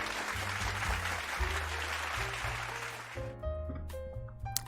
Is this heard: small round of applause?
yes